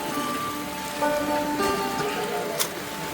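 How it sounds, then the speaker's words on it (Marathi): Rain keeps falling on a mountain trekking trail near Tungnath in Uttarakhand, a steady patter of drops on surfaces with a faint tonal hum behind it and a sharp brief tap near the end. "पाऊस बघा पाऊस चालूच आहे"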